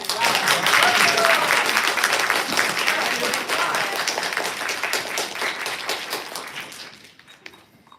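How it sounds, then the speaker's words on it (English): An audience applauds for Joe at a creative mixer, with dense, steady clapping from a room of people that stays loud for several seconds before thinning out and fading toward the end. "I don't think y'all clapped enough for Joe"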